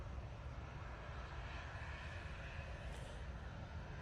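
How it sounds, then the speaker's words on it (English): A Ryanair airliner departs Manchester Airport bound for Milan, its jet engines a steady, broad distant roar that holds evenly throughout with no talk over it. "Ryanair going off to Milan, just in front of us now."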